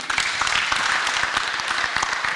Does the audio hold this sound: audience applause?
yes